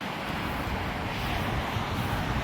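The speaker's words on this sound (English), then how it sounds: "You can probably hear all the traffic behind me." Road traffic along US 30 near a parked caboose makes a steady broadband roar, even and unbroken like wind, with no voices over it.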